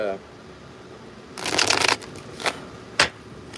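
Tarot cards riffle in a short, crisp burst, followed by two brief flicks or taps as the deck settles, close by in a quiet room.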